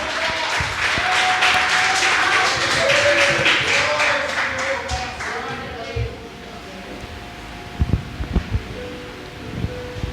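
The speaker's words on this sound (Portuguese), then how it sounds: "as palmas louvam ao Senhor" A congregation at an evening church worship service claps in a steady, rhythmic beat, loud and full for several seconds, then fades into a few scattered claps and thumps while voices continue.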